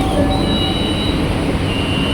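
LRT Jabodebek light rail train standing at a station platform, with a loud, steady low rumble of the car and faint tonal hums from the train equipment; no distinct door movement stands out.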